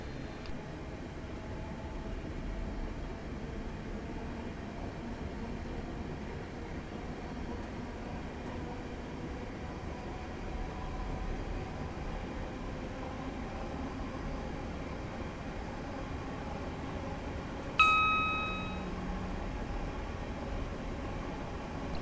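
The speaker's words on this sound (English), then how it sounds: "I've just released the brakes and I'm going to allow the train to coast up to 30 miles per hour" A Class 319 electric train coasting downhill on the Bedford to St Pancras line in Train Simulator 2015 gives a steady, quiet rumble of wheels and running gear, with a brief sharp clunk near the end.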